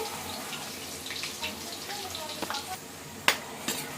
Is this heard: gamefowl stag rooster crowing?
no